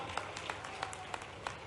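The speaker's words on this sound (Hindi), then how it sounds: "तो ताली बजाओ, मैं बनाने की घोषणा करता हूं।" Scattered crowd applause at a political rally addressed by Madhya Pradesh chief minister Mohan Yadav, faint and distant, with a handful of separate sharp claps standing out over a soft background wash.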